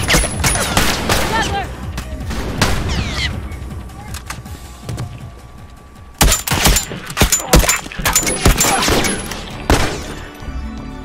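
Rapid gunfire bursts from The Last of Us video game, clustered volleys of shots that drop off midway and then return in dense loud bursts, while players talk and shout over them.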